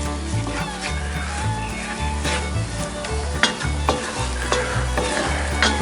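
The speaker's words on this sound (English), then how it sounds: "We want to brown this flour off just a little." Flour browning in butter inside a Dutch oven while being stirred: a steady sizzle and fry runs throughout, with repeated scraping strokes of the spoon across the pot bottom at a regular rhythm, close and fairly loud.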